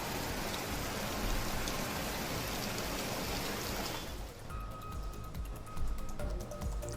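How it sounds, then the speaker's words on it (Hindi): Steady rain falls over Haridwar in northern India, a dense, even hiss for several seconds that thins out and grows patchier toward the end. "शहर से लेकर ग्रामीण इलाकों तक रुक रुक कर हो रही बारिश ने लोगों की चिंता अब बढ़ाकर रख दी है।"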